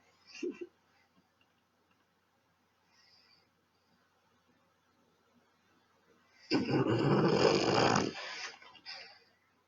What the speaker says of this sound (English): My dog is very close to both of my streaming devices, so if you are hearing him snort louder, that is why.